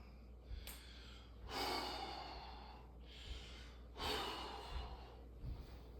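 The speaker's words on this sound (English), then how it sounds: "let me catch my breath. Inhale, exhale." Heavy, labored breathing from a nearby person catching their breath, with several deep inhales and long exhales repeating in slow waves, some nasal and snort-like, with no talking.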